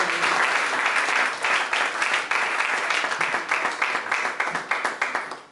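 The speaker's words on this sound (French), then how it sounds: "Est-ce qu'on peut vraiment applaudir Gwenès?" A congregation applauds a pastor in a church setting, sustained dense clapping from many hands that thins toward the end into a looser, rhythmic patter.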